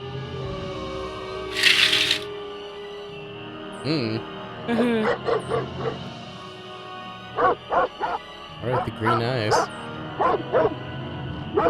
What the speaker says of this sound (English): They're ghost dogs.